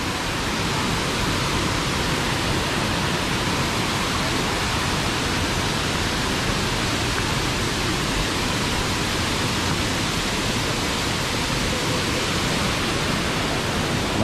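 Daranak Falls roars as a constant, dense rush of falling water, loud and unbroken throughout, filling the scene with no distinct voices.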